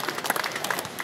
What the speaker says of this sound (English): Give the girls a nice round of applause.